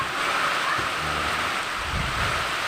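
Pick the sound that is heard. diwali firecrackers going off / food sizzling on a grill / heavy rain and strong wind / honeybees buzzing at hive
heavy rain and strong wind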